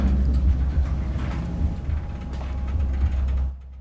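A video game elevator rides upward with a steady low mechanical rumble and gear-like rattling, fairly loud and continuous before cutting off abruptly near the end.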